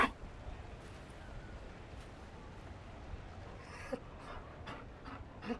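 Mabari war dog in the video game Dragon Age: Inquisition panting steadily and rhythmically at close range, fairly quiet, with a few faint breathy bursts toward the end.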